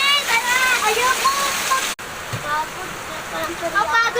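Rain falling in a steady hiss, close and fairly loud, briefly cutting out midway before resuming, with chirping or whistling sounds and a voice heard faintly over it.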